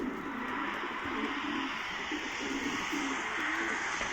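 Pigeons coo on a rooftop in a steady series of soft, low rolling calls, fairly close, over a constant hiss of background noise.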